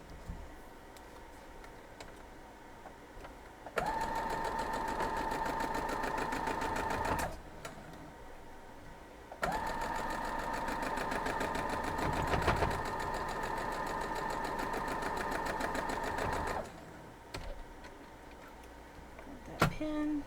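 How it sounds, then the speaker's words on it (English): A sewing machine stitching straight down a quilt block, two long runs of rapid steady mechanical whirring and ticking, close and clear, separated by quiet pauses with small handling clicks. "We're going to go sew straight down."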